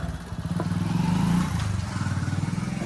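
A Hero HF Deluxe motorcycle engine idles nearby with a steady low throb and a faint clattering rhythm.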